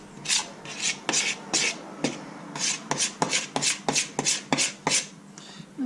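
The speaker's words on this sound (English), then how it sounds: "And then all around the side, you try and scrape it off a bit." A spoon scrapes banana and chocolate cake batter from the side of a mixing bowl, making a steady run of short, close rasping strokes in an uneven rhythm with no talk.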